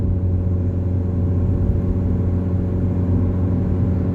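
Rover 45 Impression S3 CVT car accelerating up a hill, with a steady, loud engine drone and low road rumble that holds constant throughout, heard from inside the cabin with no talking.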